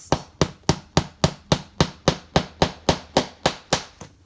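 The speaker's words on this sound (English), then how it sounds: "practice hammering." A hammer strikes a workpiece about fifteen times in a steady, even rhythm, each blow sharp, close and loud, with nothing else heard.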